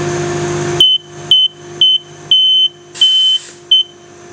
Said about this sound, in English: The theory is if these touch, I should get an alarm.